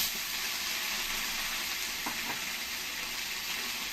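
Garlic, ginger and green chili paste sizzling in hot oil with whole spices, a steady close crackling hiss with a brief stir partway through, no talk.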